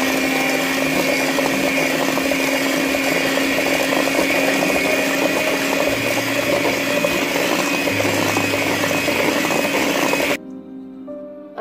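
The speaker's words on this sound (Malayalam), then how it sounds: "എന്നിട്ട് ഇത് നമുക്ക് ഈ ബീറ്റർ വെച്ച് നന്നായിട്ടൊന്ന് മിക്സ് ചെയ്ത് വെക്കാം." An electric beater whirs steadily as it mixes eggs for banana cake batter, a loud continuous motor whine with small shifts in pitch, then it stops suddenly near the end.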